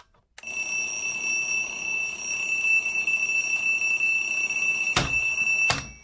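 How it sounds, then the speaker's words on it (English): Electronic alarm clock ringing loud and steady in a sustained high-pitched tone for several seconds, with a couple of sharp knocks near the end. "because once that alarm goes off"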